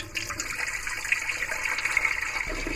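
Water runs through a sailboat's plumbing during winterizing, a close, hissing faucet-like stream with gurgling surges that rise and fall for a few seconds, no voices over it.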